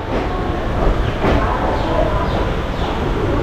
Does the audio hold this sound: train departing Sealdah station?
yes